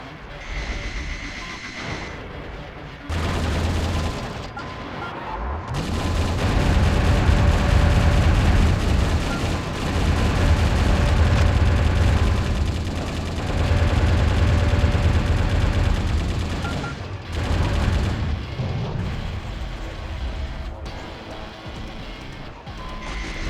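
Video game gunfire in Metal Wolf Chaos XD, heavy sustained automatic fire with booming impacts that swells and fades in long loud stretches, with brief quieter gaps between.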